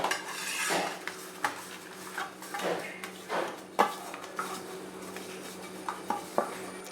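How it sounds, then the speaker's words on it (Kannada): A spoon spreads oil across a pan, making a series of separate metallic scrapes and light clinks at irregular intervals, fairly close and clear against a quiet background. "ನಾನಿಲ್ಲಿ ಒಂದು ಪ್ಯಾನ್ ತೊಗೊಂಡಿದ್ದೀನಿ. ಇದಕ್ಕೆ 1 ಸ್ಪೂನ್ ಎಣ್ಣೆ ಹಾಕ್ಕೊಂಡು ಚೆನ್ನಾಗಿ ಸ್ಪ್ರೆಡ್ ಮಾಡ್ಕೋತೀನಿ."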